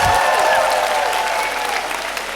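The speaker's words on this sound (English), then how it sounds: "Give yourselves a round of applause" A university lecture audience applauds together, a dense wash of clapping that starts strong and slowly tapers, with faint tonal sound underneath.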